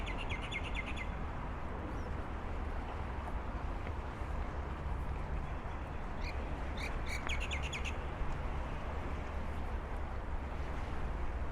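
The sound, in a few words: birds chirping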